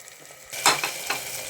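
A paste of ginger, garlic and green chili fries in a pan for mushroom pulao, its quiet sizzle swelling into louder crackling bursts as it is stirred, with faint scraping and no voices.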